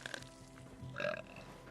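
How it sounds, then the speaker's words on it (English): A character in Fallout 76 lets out a short, low burp after eating a corpse, faint beneath steady game background sound. "burp is a nice touch"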